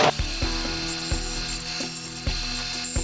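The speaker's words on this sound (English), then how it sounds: "now we're going to take those tabs off with our disc and belt sander" A disc and belt sander grinds tabs off a small CNC-cut spindle lock part, a continuous motor drone with a steady whine, broken by repeated light knocks and scrapes as the piece is pressed against the abrasive.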